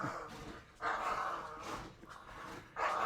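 A small dog barks in short bursts in the background, fairly distant and muffled, with quieter gaps between the barks.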